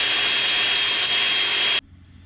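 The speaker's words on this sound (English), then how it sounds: "hopefully that should stay put while we just grind this surface flat" A power grinder grinding the surface of an engine exhaust stud flat, a loud continuous abrasive whine with slight pulsing in intensity that cuts off abruptly near the end, leaving a quiet room.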